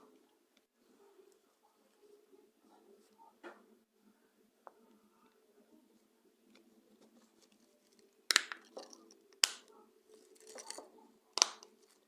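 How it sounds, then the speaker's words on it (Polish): Plastic latches of a Ford key fob remote snap shut after a battery change, giving a few sharp, close clicks in quick succession near the end, preceded by quiet handling. "Zapadki wskoczyły."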